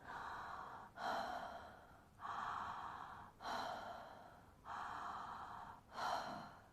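Deep connected breathing through the mouth in a breathwork therapy session, five slow, close breath cycles in a steady rhythm, each a soft airy rush with no pause between inhale and exhale.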